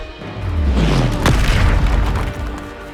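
A Confringo blasting spell explodes in Hogwarts Legacy, a loud deep boom with a sharp crack near the middle, rumbling on for several seconds.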